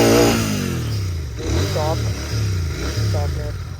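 A 2023 Royal Enfield GT 650 motorcycle rides off, its engine note rising and settling in steady pulls, with people talking over it throughout.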